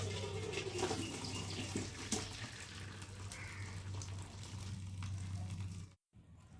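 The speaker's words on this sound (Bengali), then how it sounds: "আর এখন আমি জলটাকে ঝারিয়ে নেব" Water being drained from a pot of boiled taro leaves, a faint, continuous pouring and trickling rush with a low steady hum beneath and a brief cutoff near the end.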